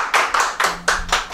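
Five distinct hand claps in a small group welcoming a doctor as guest on an evening talk show, evenly spaced, close and fairly loud, with no talking.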